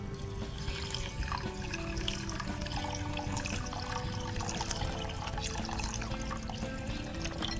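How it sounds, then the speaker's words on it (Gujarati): Water pours and splashes steadily into a pan for making sugar syrup in a cooking-show kitchen, a continuous, fairly loud trickling rush with no talk over it. "3 કપ જેટલું પાણી ઉમેરવાનું છે"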